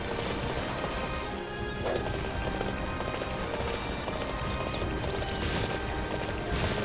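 Hooves gallop in Dynasty Warriors 9 amid dense game noise, with clip-clop beats and crashing battle sounds mixed into a steady, loud wash.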